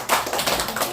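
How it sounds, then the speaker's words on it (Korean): A short burst of audience applause at a lecture, close and fairly loud, with dense overlapping claps lasting about a second. "손녀께도 격려의 박수 좀 한 번 부탁드립니다"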